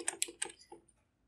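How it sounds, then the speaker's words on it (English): Fingers typing on a computer keyboard, a few quick close keystroke clicks in a short burst that fade into quiet. "While you type the defrag,"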